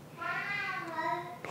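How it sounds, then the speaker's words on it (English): A cat gives one drawn-out meow in a home kitchen during cooking, fairly close and steady for over a second, with no speech over it. "Oh my goodness, the cats are gone nuts."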